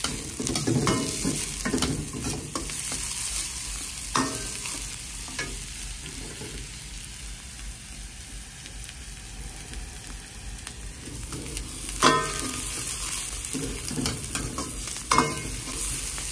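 Chopped cabbage is stirred and sautéed in a hot pan for veg manchow soup, a steady close sizzle broken by occasional scraping stirs and a few sharper clanks of the spoon against the pan.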